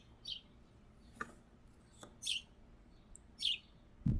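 Birds chirp outdoors, four or five brief high tweets spaced a second or so apart, fairly faint and distant over a low background hiss, with a couple of soft taps in between.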